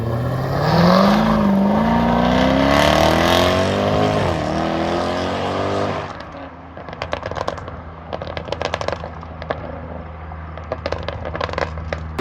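Supercharged 5-liter V8 of a Jaguar F-Type SVR revving loudly with rising harmonic pitch sweeps for about six seconds, then settling into a quieter, crackling idle with sharp pops and burbles.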